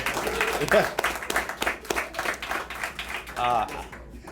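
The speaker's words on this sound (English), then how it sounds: "let's give him a round of applause" An audience at an animal village expansion ribbon cutting ceremony gives a round of applause, quick scattered claps in a brisk rhythm, with people talking over the clapping before it thins out at the end.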